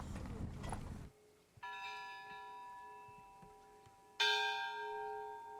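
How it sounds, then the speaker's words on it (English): Church bells in Petropavlovka village ringing two separate clear strikes with long ringing decays, fairly faint and at a distance, after a short burst of rustling noise at the start. "As soon as we arrive in Petropavlovka, the church bells chime."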